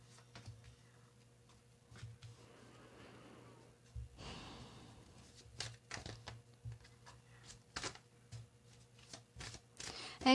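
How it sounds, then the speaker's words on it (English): Tarot cards are shuffled by hand in a quiet room, a close run of soft riffling and papery slaps in short bursts, with brief breathy pauses between them and no talking. "Another shuffle, they say."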